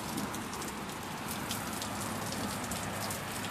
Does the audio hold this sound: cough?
no